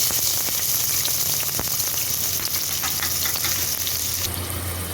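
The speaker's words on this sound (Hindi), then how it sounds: "और 1 से 2 मिनट के लिए प्याज को हल्का सा सौटे करेंगे।" Finely chopped onions sauté in hot oil in a pan, a loud, dense, continuous sizzle heard up close with faint stirring taps, for a mutton liver dish.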